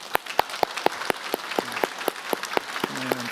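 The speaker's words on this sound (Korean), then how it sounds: "우리가 환영의 박수 함께 하도록 하겠습니다" A church congregation claps in welcome during a Sunday worship service, sharp, scattered claps ringing out steadily at close range, with a low hum of voices joining toward the end.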